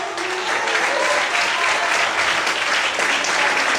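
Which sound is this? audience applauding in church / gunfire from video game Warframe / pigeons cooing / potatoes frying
audience applauding in church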